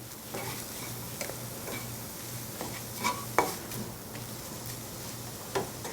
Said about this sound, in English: So let's just get that spinach mixed up in here.